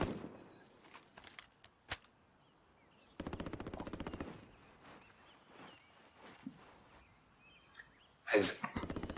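Rapid bursts of MP7 submachine gun fire in Call of Duty: Warzone, a short volley near the start, a sustained rattling burst mid-clip and a loud close burst at the end, with quieter game sounds between.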